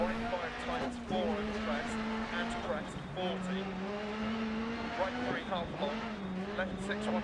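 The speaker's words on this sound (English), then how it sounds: "Just pull in the handbrake there to get the turn done early" A Polo WRC rally car in DiRT Rally on a Sweden stage, with a steady droning engine note that shifts pitch through a handbrake turn and light tyre noise.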